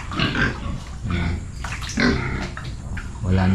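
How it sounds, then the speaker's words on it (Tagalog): Pigs grunting close by at a farmhouse flooded by river water, loud continuous snorts and grunts in bursts with a little watery splashing. "Ito yung mga baboy ni Tatang."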